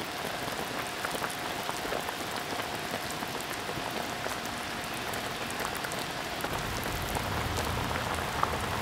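Small chunks of salted beef boil in a pot covered with a basin, making a dense, steady bubbling patter like rain on a surface, which grows slightly fuller near the end.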